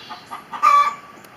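A small rooster clucks near and fairly loud, a few short calls building to a stronger central note, alone without talk.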